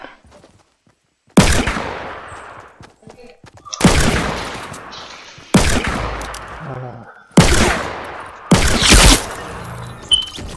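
Fortnite gunfire, five separate loud shots or short bursts spaced a second or two apart, each with a sharp attack and a fading echo, with quiet gaps between them.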